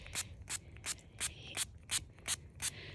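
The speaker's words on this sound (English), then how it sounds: "I just kind of start pumping it and kind of spray it around." A vintage-style pump spray bottle gives about eight short, evenly spaced hissing sprays, each puff close and crisp, with faint pumping in between.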